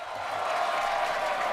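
A crowd cheers and applauds during a Starship rocket launch broadcast, a steady, dense roar of many voices that stays at an even level throughout.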